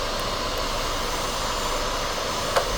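An electric manicure drill fitted with a ball bit, used during acrylic powder nail strengthening, whines steadily at reduced speed, a continuous close hum with a faint click near the end.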